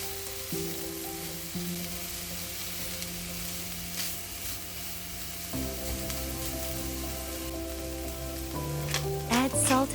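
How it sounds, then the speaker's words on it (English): Potato filling seasoned with paprika and dried thyme sizzles softly in a pan while being stirred, a low continuous crackle over a steady hum, with faint scraping and a few louder clinks near the end. "Add paprika and dried thyme. Mix everything thoroughly."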